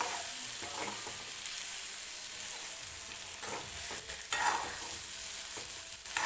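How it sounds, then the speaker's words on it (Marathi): Eggplant and masala stir-fry in hot oil, a continuous bright sizzle with repeated scraping stirs of a spatula in the pan, close and fairly loud throughout, no voices. "तर या तेलामध्येच जो मसाला आणि वांग आहे ते व्यवस्थित भाजलं जातं."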